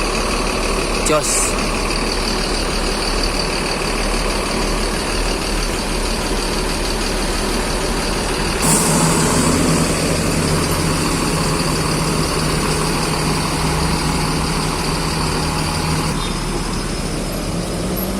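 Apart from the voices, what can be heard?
bus engine idling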